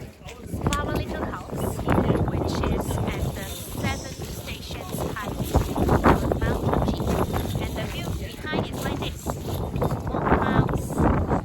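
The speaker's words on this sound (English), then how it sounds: "So windy." Strong, steady wind roars and buffets the microphone throughout on the route to Mount Fuji's summit, with voices talking intermittently underneath.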